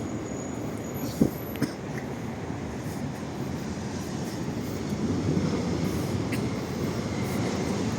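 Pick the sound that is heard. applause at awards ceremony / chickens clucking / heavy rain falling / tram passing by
tram passing by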